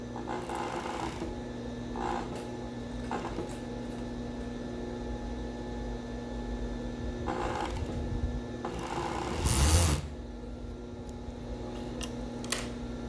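A sewing machine stitching the side seam of an elastic-waisted thong, short bursts of mechanical whirring separated by pauses and handling noise, close up with no talking.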